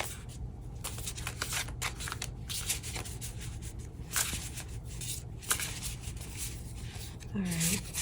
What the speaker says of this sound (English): This almost has like a sandy sound when I shuffle them.